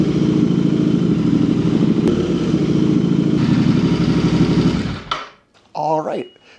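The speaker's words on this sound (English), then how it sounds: "start the bike up, just let it run for a minute so the oil cycles through" Royal Enfield Interceptor 650 twin idling after an oil change, a close, loud, steady chugging that runs for about five seconds and then cuts off abruptly, followed by a brief clatter.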